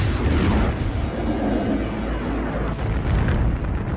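Documentary sound effect of explosive impacts from asteroid bombardment of the early inner solar system, a dense continuous rumbling roar of booms and blasts, loud and sustained throughout with no talk.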